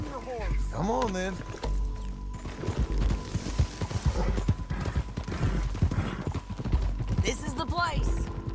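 Horse hooves clip-clop steadily at a riding pace in the Red Dead Redemption 2 video game, with soft whinnies, music and a voice heard over the hoofbeats.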